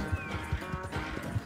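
Horse in the Western video game Red Dead Redemption 2, with a steady clip-clop of hooves at a moderate pace, close and fairly soft, under light background game sound.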